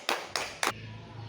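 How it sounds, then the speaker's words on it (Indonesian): Brief classroom applause for a student who came to the front: three distinct sharp claps spaced about a quarter second apart, close and clear, then a quiet room. "Kasih tepuk tangan dong buat temannya yang udah maju."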